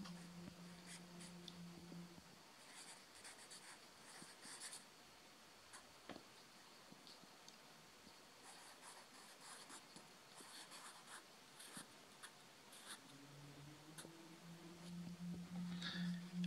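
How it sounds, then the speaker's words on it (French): A pen scratches notes onto a sheet of paper, soft intermittent strokes in short bursts broken by pauses, close and quiet over a faint low hum. "Maintenant, je note sur une feuille de papier."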